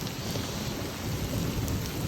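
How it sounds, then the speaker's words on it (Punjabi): Heavy rain pours down steadily in a dense, continuous roar with no voices, a low rumble underneath like distant thunder. "ਪੂਰਾ ਤੇਜ਼ ਆ ਪੂਰਾ ਜ਼ਬਰਦਸਤ ਮੀਂਹ ਆ"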